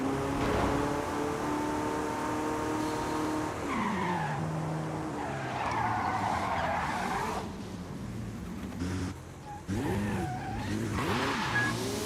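A car engine in Forza Horizon 5 during a 90 mph fifth-gear roll race, a loud, steady engine drone with gear shifts and squealing tyres, close and continuous without talk.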